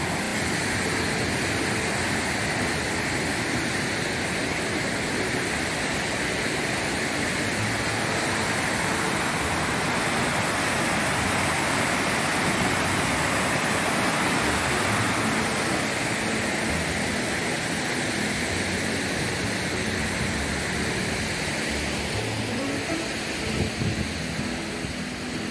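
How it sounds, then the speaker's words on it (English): A constant, loud roar of falling water at Lower Bertha Falls fills the air without a break, steady and broadband throughout, with no talking. "I hear the waterfalls. This would be Lower Bertha Falls."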